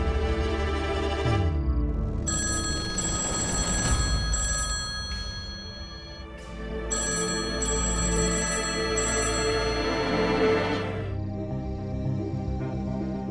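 Telephone ringing in a household drama, a loud repeated electronic ring with harmonic tones in bursts, one pause midway, against a steady background hum.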